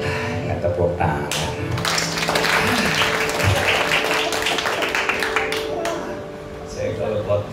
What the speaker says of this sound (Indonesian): Nggak tepuk tangan.